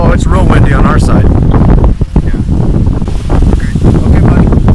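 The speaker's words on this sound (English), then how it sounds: "it's real windy on our side" Strong wind gusting over open water with spray blowing, a loud steady roar of buffeting across the microphone, dipping briefly midway; people talk over it.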